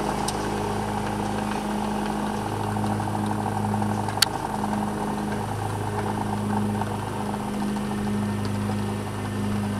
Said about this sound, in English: Turn the lawnmower around.